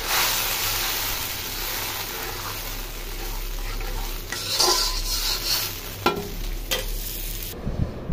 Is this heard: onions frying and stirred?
yes